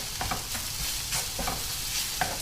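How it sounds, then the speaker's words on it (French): Flour cooking in a pan for beef stroganoff, a steady close sizzle with repeated scraping strokes of a stirring utensil and no voices. "je fais cuire ma farine pendant une petite minute"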